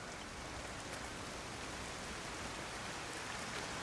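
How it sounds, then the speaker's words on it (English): Steady rainfall in a video game, a soft continuous patter and hiss with no pauses or voices, evenly spread and fairly quiet. "I love that you can hear the rain like that."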